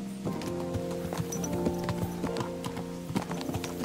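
A horse's hooves clip-clop in a steady, close rhythm, with no voices.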